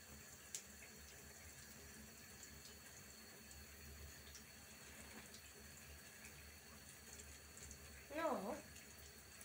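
Water runs steadily from a tap at a low, even level, with a brief louder splash near the end.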